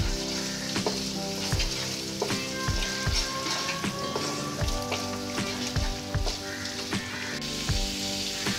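Colocasia greens with salt, turmeric and spices being stirred in a frying pan, a steady sizzle under repeated scraping strokes of the spatula at an even rhythm, close and fairly loud, with no voices.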